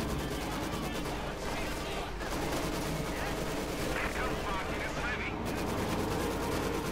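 An MG42 machine gun fires in the real-time strategy game Company of Heroes 2 during a 1v1 match, rapid continuous bursts of gunfire layered with distant battle explosions, dense and sustained throughout.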